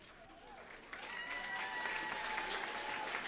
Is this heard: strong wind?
no